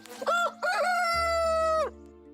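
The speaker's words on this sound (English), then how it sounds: "keep an eye out for Rocky and all of the other roosters nesting around" A rooster crows once up close, a loud drawn-out call with a short broken opening and a long sustained final note, set against a low steady hum.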